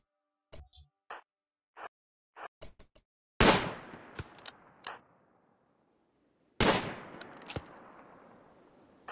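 Scattered sharp gunshots crack in short bursts, then two big booming blasts ring out with long reverberating tails, all fairly close with no talking, in the video game RimWorld.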